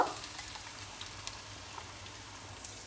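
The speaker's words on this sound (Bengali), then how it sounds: "আর পেঁয়াজটা আমি হালকা বাদামি করে ভেজে নিব" Chopped onions fry in soybean oil in a pan, a faint, even crackling sizzle with scattered small pops throughout.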